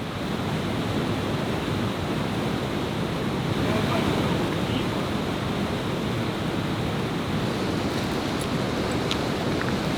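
Steady, dense rushing of fast river rapids on a wild Canadian river, a broad continuous roar with no breaks, loud and close throughout.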